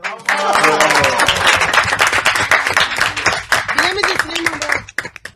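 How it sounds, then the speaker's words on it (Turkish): A studio audience on a Turkish quiz show breaks into applause after an answer is revealed, loud, close clapping that swells quickly and holds, with a host's voice talking over it before it tapers off near the end. "Bir alkış."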